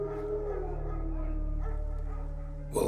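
Wild dogs in The Witcher 3 give a distant, muffled bark and howl amid a steady low ambient drone of the game world, with a louder burst at the very end.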